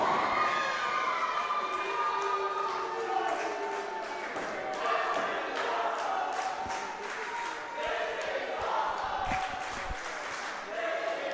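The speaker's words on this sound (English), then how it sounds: "crowd loving it here, chanting" Pro wrestling crowd at a live independent match, a dense arena roar of cheering, shouting and rhythmic chanting with thuds from the ring, heard close and loud with commentators talking over it.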